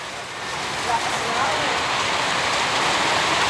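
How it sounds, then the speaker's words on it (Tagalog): Sudden heavy rain pouring onto surfaces outdoors: a dense, loud, steady wash of patter that swells within the first second and holds constant. "Tara, bigla umulan."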